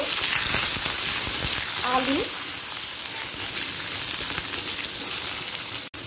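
Potatoes frying in a pan with panch phoron and a dried red chilli, for an okra and potato mustard curry: a steady, close sizzle runs throughout, with a brief stir-like clink early on.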